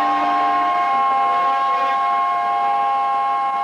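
Two trains salute each other with whistles or horns at the National Railway Museum, a record-breaking HST Inter City 125 among them, giving steady sustained tones that hold for several seconds, loud and close, with no talk.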